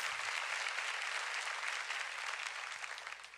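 A church congregation applauds steadily through a worship service, the clapping dense, sustained and fairly close, easing off slightly toward the end.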